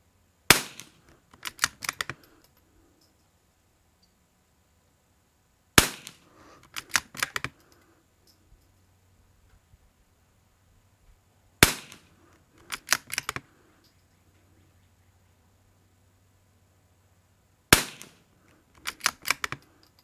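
Shots from CZ452 Varmint and Savage MKII rimfire rifles at a range, four separate clusters of sharp cracks spaced several seconds apart, each a first shot followed by a quick run of clicks, loud and close against near silence.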